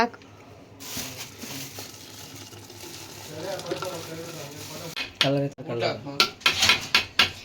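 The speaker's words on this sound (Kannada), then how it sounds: "ಟಟ್ ಟಟ್ ಟಟ್ ಅಂತ ಹಿಂಗೆ ಹೊಡಿಬೇಡ ಅಣ್ಣ, ಪಾತ್ರೆ ಗಿತ್ರೆ ಹೋಗ್ಬಿಟ್ಟತ್ತು" A metal cooking pot is struck repeatedly while a milk-and-rice sweet is cooked at home, sharp clanks coming in a quick uneven run near the end, after a stretch of kitchen clatter and talk.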